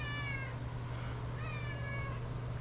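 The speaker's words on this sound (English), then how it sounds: "Cat came in again." A cat meows twice indoors, fairly faint and a little distant, over a steady low hum.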